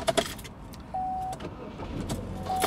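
Keys jangle briefly near a car, followed by a short electric whine and faint mechanical clicks inside the vehicle, all quiet and close.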